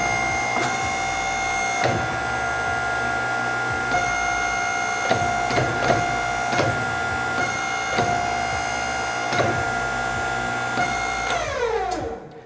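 A digital press worked by a foot pedal runs with a steady mechanical drone and periodic clicks as it extends and retracts, and then winds down audibly at the end.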